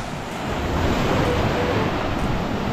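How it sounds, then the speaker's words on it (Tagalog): Sea waves and a strong current surge in a continuous loud wash, mixed with buffeting wind on the microphone. "Oh, yun o, malakas ang agos o."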